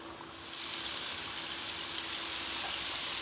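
Steady hiss and crackle of chicken frying in hot oil, continuous and fairly close, with no talking.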